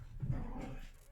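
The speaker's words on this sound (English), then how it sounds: "Just ignore the dogs fighting." Dogs scuffling in a brief burst of low growls and whines, close and fairly loud, with no talk over them.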